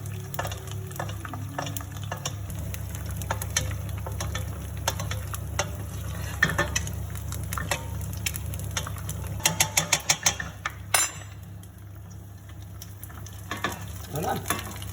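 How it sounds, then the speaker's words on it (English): Hot oil spooned over eggs frying in a pan, a continuous low sizzle with scattered crackles and spoon scrapes, quick clicking bursts near the end. "just going to spoon on some oil to the top of the eggs. Hot oil on top of the eggs."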